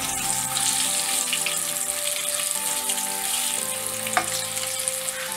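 Potatoes frying in very hot oil, a loud, dense and continuous crackling sizzle heard up close with a brief clink near the end and no talking.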